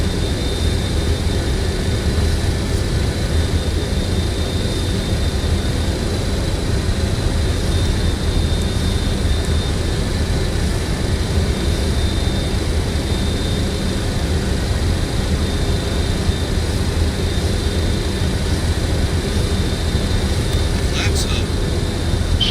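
A jet airliner taking off in Microsoft Flight Simulator on a flight from Semarang to Palembang, with a loud, steady engine roar and broadband rush that holds constant and dominates throughout, with a thin whine above it.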